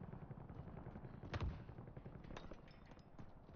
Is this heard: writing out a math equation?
no